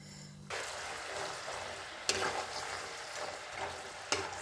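Kabuli chana pakoras dropped into hot oil and frying, a dense steady sizzle that rises sharply at the start and carries on with brief crackling bursts, close and alone with no talking.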